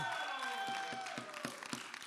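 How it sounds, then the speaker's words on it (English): Crowd applause at a church service greeting a pastor, with sharp rhythmic claps and some cheering, fairly quiet and steady throughout. "And the crowd goes wild."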